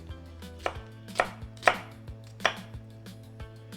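A knife cuts chicken on a cutting board to prepare a miso stir-fry, making four or five sharp, separate thuds spaced irregularly over a quiet background hum.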